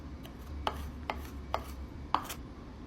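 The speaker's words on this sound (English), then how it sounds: "Finely mince 1 whole garlic" A knife chops a whole garlic finely on a board, four sharp, evenly spaced taps ringing out alone with no voices.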